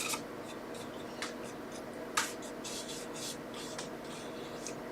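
An eraser rubs pencil dots off a handmade silver-embellished Christmas card, giving soft, faint, intermittent scratchy strokes in short bursts close to the ear.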